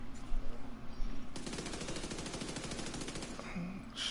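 A submachine gun in The Division 2 video game fires one fast continuous burst of about two seconds, loud and close, following quieter game ambience and trailing off into faint sounds.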